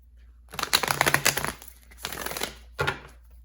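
Three quick bursts of tarot cards being riffled and shuffled, crisp and close, with brief pauses between them; no talking.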